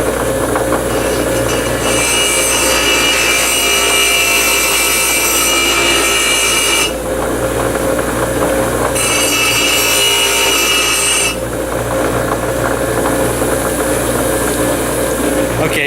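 Steel file being scored by hand to make a flint striker, harsh rasping strokes in long sustained passes with a short pause between, close and loud.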